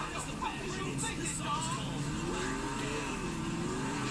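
A muscle car with poorly balanced, rear-biased brakes drives in GTA IV, its engine a steady mid-pitched drone with faint rising revs throughout, while a voice talks over it.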